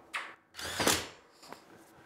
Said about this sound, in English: I'm screwing into the fourreur up top, which gives a really good fix